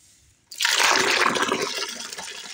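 Water splashes loudly and steadily over a freshly caught crab as it is washed clean of a flour coating, starting abruptly and continuing as a dense, close splatter.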